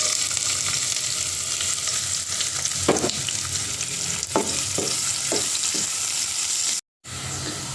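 Chopped onion for shingara filling fries in a pan with a continuous loud sizzle, broken by several sharp stirring scrapes, then a brief cut to silence near the end.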